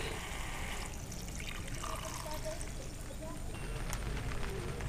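Water pours and trickles steadily into a pot of tinola being cooked in the evening, with background voices and camp noise throughout.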